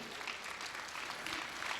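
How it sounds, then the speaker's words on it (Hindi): A crowd at a comic poetry event claps for ISRO, producing a steady, continuous wash of applause that holds at an even level throughout the short stretch. "एक बार आप सब लोग इसरो के लिए जोरदार तालियां बजाइए।"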